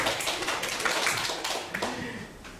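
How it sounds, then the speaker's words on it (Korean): A classroom audience gives a short burst of scattered clapping, moderately loud and close, with a few voices murmuring over it. "자, 박수 한번 주세요."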